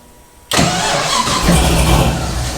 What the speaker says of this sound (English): And let's go for starter.